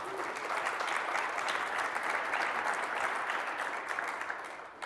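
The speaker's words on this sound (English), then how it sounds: "you guys can applaud for our wonderful performance" An audience applauds after a presentation at a Tableau Server client event, a continuous wash of many hands clapping, steady and fairly distant, fading slightly at the end.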